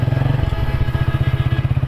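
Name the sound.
motorcycle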